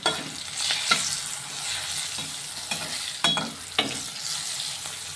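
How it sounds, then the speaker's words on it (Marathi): Turmeric is stirred into hot oil with fried chilies and garlic, a steady close sizzle broken by several sharp scraping strokes of the spoon, with no talk. "आता आपण याच्यामध्ये अर्धा चम्मच हळद टाकणार आहे हळद पण तेलामध्ये मिक्स करून घ्यायची"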